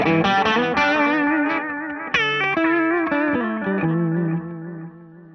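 An electric guitar runs through a Tone of Kings overdrive pedal into a Two Rock amp, giving a mildly boosted, slightly gritty tone; a few picked notes and chords ring out with reverb and fade toward the end.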